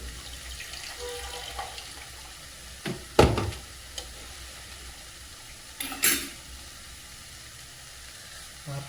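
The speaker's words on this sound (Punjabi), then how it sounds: "ਆਪਾਂ ਪਾਵਾਂਗੇ ਗਰਮ ਪਾਣੀ ਤੜਕੇ ਲਈ" Hot water poured into a sizzling masala for a tadka bursts into two loud hissing sputters over a quiet simmering background, and no one talks.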